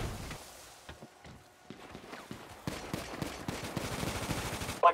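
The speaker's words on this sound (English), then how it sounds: "Oh, someone's shooting. Someone's shooting." Police shootout in the video game GTA V: scattered gunshots at first, then rapid, fairly close automatic fire building up, with a sharp loud burst at the very end.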